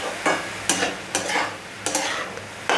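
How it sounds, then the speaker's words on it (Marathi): Onion stir-fried in oil over a high flame for chicken chutney, a continuous sizzle broken by four sharp scrapes of a spatula against the pan, close and fairly loud, with no voices. "मोठा गॅस करून आपण सारखा हलवत राहिला कांदा तर तो लवकर फ्राय होतो."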